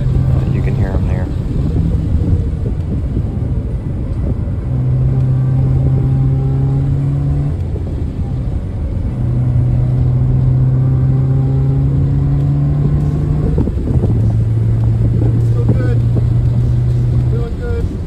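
A Honda car laps a race track, its engine droning and revving through steady sustained pitches that climb and shift between gears, loud and fairly close, with someone talking over it.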